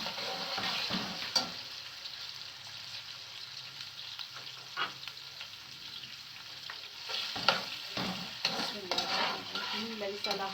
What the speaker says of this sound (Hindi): लहसुन अदरक हमारा सौते हो गया है। अब हम इसमें अपनी ये चिकन ऐड कर देते हैं।